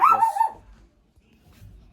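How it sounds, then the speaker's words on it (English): A pet dog at home, agitated by someone at the front door, lets out one sharp bark and a short yip up close, then goes quiet with only faint room noise. "I had to let my dog out. She's tweaking because there's someone at the door."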